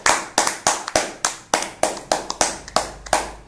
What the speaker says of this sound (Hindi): तो जोरदार तालियां हो जाए स्पीक टू विन फैमिली की तौर से आप सभी को